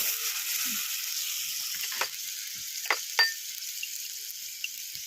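Tomato stirred in a hot pan for a pabda fish curry, a soft steady sizzle with a few sharp scrapes and clinks of the spoon, fairly quiet and close.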